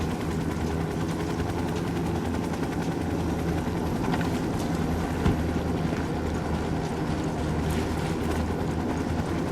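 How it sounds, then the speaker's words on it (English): An Apache helicopter in the video game Ghost Recon Wildlands drones steadily with a thick rotor thrum and engine rumble, constant and fairly close throughout. "Hit the dirt, helicopter."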